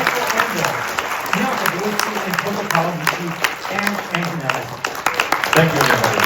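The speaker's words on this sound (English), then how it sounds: "let's give a warm round of applause" An audience at a film screening at the Japan Society applauds, a steady patter of clapping with a voice talking over it.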